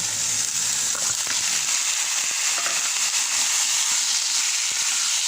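Pork ribs with tomato paste and bay leaf sizzle and fry steadily in a hot pan, a continuous loud hiss with faint scraping stirs.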